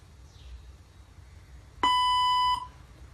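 A single clear electronic beep from a robotic language translator's voice prompt, a steady tone lasting under a second against a quiet background hum.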